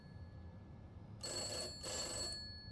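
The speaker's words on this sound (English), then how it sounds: "The phone's ringing." Telephone in a frightening video game rings in two electronic bursts of about half a second each, loud and close over a low rumbling background drone, with no talking.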